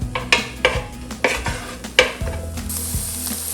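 Onions sizzling in a pan with a cauliflower stuffing mixture, a steady fry broken by several sharp scrapes and clinks of a utensil stirring against the pan.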